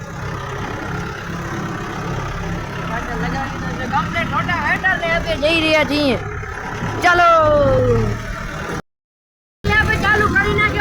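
A 4x4 tractor engine runs steadily with a rotavator attached, a continuous low rumble heard close by under ongoing talk, with a brief dropout near the end.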